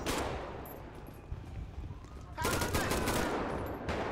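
Rapid gunfire bursts from a GTA 5 police mod shootout, a sustained volley that fades then returns louder midway, with a voice briefly in the background.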